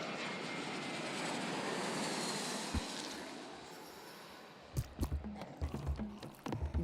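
A video-game airplane climbs after takeoff with a loud, broad engine roar that slowly fades, followed by a run of irregular close knocks and thumps.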